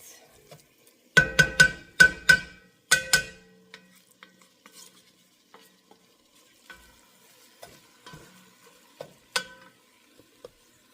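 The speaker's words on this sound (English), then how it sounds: "we'll let the garlic cook for a minute" Garlic cooking in a pot for cheddar and broccoli soup, heard as a run of loud stirring scrapes and clanks around the pot early on, then a fainter sizzle with occasional light knocks and taps.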